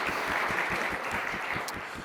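Sustained audience applause at a live panel event, dense steady clapping from a large crowd that fades slightly toward the end.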